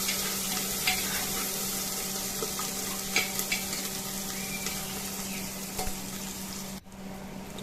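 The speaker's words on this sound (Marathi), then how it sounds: "कांदा तेलामध्ये चांगला परतून घेऊया" Finely chopped onion fries in hot oil with mustard seeds and cumin, giving a steady, close sizzle with occasional scraping clicks as it is stirred, continuing without pause.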